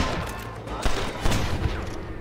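Sustained gunfire in the Red Dead Redemption video game, a dense, loud volley of overlapping shots with a few sharper cracks standing out, continuous through the short stretch.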